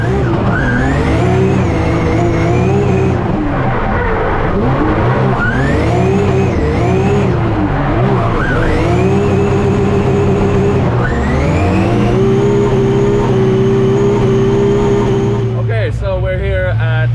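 Cars drifting on the Top Gear test track, engines held at high revs with rising and falling pitch sweeps and long sustained wails, loud and close throughout, with a voice talking over them.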